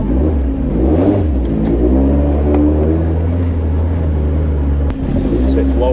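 A Vauxhall Nova car engine, uncovered after 18 years of storage and running with a throttle close to stalling, drones steadily and rises and falls in pitch while driving, loud and close throughout.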